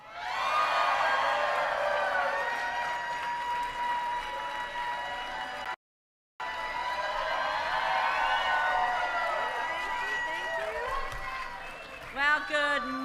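A large rally crowd at a political campaign event cheers, claps and whoops loudly and continuously, broken by one brief gap of silence before the roar returns.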